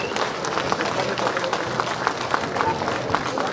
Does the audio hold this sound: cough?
no